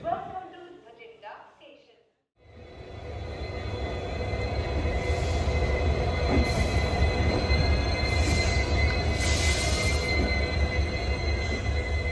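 After a brief stretch of people talking, a train's steady rumble of wheels on rails takes over, loud and continuous, with occasional high squeals, on the Suryanagari Express toward Pathankot.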